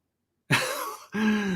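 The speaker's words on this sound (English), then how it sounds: "Let me clear my throat." A single throat clearing, close and fairly loud, breaking from silence into a rough guttural rasp, followed by a second, more voiced clearing.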